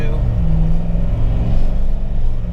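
An LT1 V8 swapped into a Jeep JK pulls hard under load, a loud, deep continuous rumble heard from inside the cabin, with someone talking over the engine.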